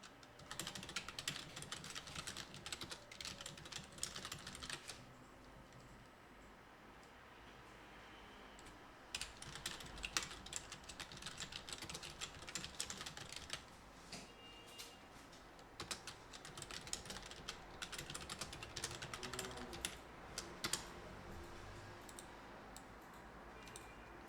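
Steady computer keyboard typing with rapid clicking keystrokes in bursts and brief pauses, fairly quiet and close, with no talking.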